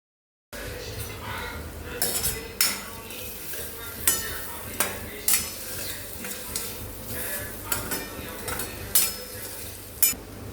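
Moong dal curry with Kashmiri red chilli, coriander powder and turmeric stirred in a pan, a spoon scraping and clinking against the metal in irregular strokes over a faint steady sizzle.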